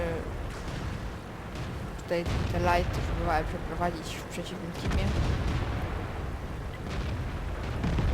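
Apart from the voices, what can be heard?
tank cannon shots in a video game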